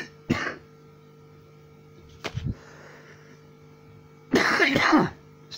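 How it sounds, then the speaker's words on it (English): Three separate coughs, spaced a couple of seconds apart, the last one longest and heaviest with a chesty rasp, close by against a quiet room. "got a bit of a chesty cough"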